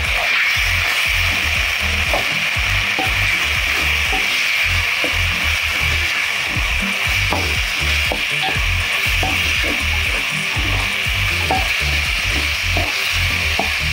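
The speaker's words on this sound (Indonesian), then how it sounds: "Biarkan sampai oncomnya kering. Diaduk-aduk dulu terus sampai kering." Oncom fries with a loud, constant sizzle in a pan while a utensil stirs and scrapes it in irregular strokes, close up and with no voices.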